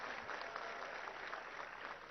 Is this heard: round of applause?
yes